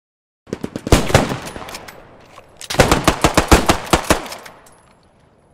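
Video game machine gun fire, two loud rapid bursts of shots, the first short and the second longer, with a brief pause between and a fading tail.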